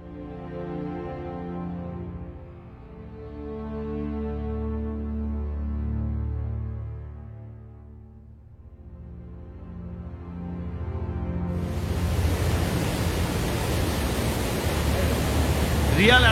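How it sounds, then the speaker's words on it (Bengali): The Hamta river flows beside a forest trail in Himachal, first faint and distant beneath tonal hum, then a loud, broad rushing wash takes over for the last few seconds. "ভালো করে কান পাতলেই শুনতে পাবে হামটা নদীর শব্দ।"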